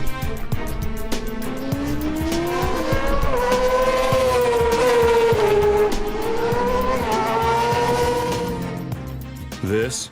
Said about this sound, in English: This is Wayne Rainey's favorite racetrack, the Laguna Seca Motor Speedway in Monterey, California